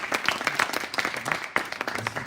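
Church congregation breaks into brisk applause, a dense patter of many hands clapping at fairly close range, continuing steadily for a couple of seconds.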